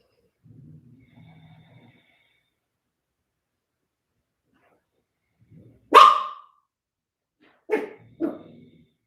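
A dog gives one loud sharp bark, then two quick barks a moment later, close by, after a few faint low murmurs in an otherwise quiet room.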